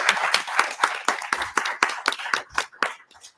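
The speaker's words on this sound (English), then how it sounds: "Let's give a big round of applause for our panelists" Clapping for panelists at the close of a business discussion on CPOs and CEOs, rhythmic and fairly close, a small group of hands beating steadily before tapering off.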